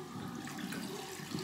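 Fresh water runs steadily from a tap, a continuous soft, even rushing with no breaks and no voices.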